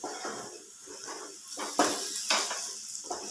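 Potatoes fry over a low flame in a covered pan, giving a faint, steady sizzle broken by a few soft scrapes and clinks close by.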